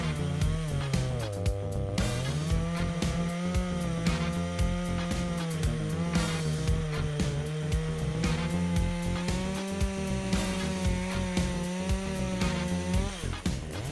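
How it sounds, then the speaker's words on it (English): A heavy-duty chainsaw with a powerful engine fells an ancient tree, its loud, close motor droning and wavering continuously for the whole stretch without pause. "chain saw stands out, equipped with a powerful engine"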